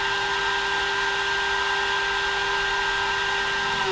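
A Makita router driven by a VFD spins at full speed, giving a loud, steady high-pitched whine with strong tonal lines, continuous and unchanging, with no talk over it.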